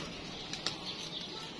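Pigeons released into the air, a few faint, brief bursts of wing flapping and fluttering over a quiet, steady background with no talking.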